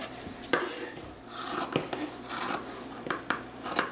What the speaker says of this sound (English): then we're going to cut them into fourths